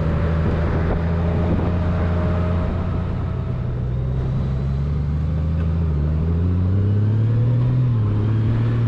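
A Honda Gold Wing motorcycle cruising on the interstate produces a steady engine drone with wind and road roar, the engine note rising slightly toward the end as it accelerates, no talking.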